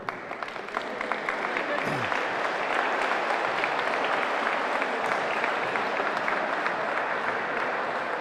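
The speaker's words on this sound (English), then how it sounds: "a big round of applause for both players there" A wallball championship crowd applauds both players with sustained, fairly loud clapping that builds after a brief ragged start and stays steady, with some murmuring voices mixed in.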